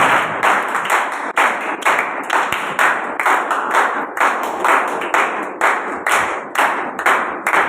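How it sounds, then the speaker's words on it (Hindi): Rhythmic clapping from a sermon congregation, steady beats in unison, bright and close, with no talking. "आपकी जोरदार तालियों में"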